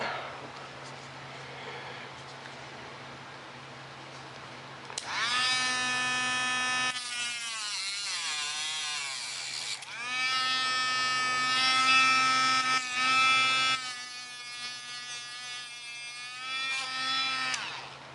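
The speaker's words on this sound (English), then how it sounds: "It's always best to cut carbon fiber rod with a Dremel." A Dremel rotary tool cutting carbon fiber rod, a high whining buzz that starts abruptly and bogs and rises in pitch in bursts as it bites into the rod, close and loud, no talk.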